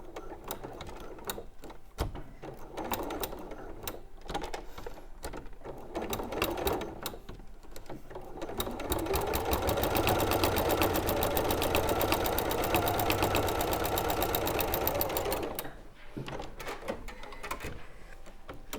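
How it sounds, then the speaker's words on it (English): A sewing machine topstitches around the outer edge of a handkerchief dress quilt, starting with short stop-start bursts and then settling into a long, fast, steady run of rapid stitching that cuts off near the end. "so you top stitch all the way around the outside?"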